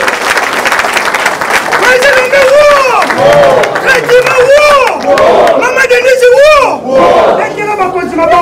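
A large meeting audience cheers and shouts with rising voices over steady applause, loud and continuous throughout, with a crowd babble underneath.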